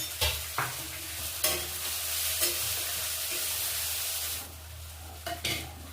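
Chopped onions with a pinch of salt sizzling in a pan after a tempering of spices, close and steady, broken by several sharp scraping strokes of a spatula as they are stirred; no one speaks.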